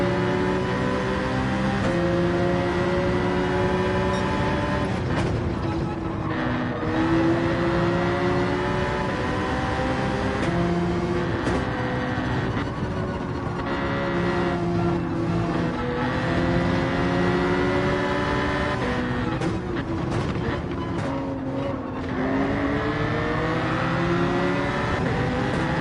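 A Gr3 race car in Gran Turismo 7 at Fuji runs its engine loud and steady, the pitch climbing through the gears with repeated upshifts and fresh pulls of acceleration, no voices over it.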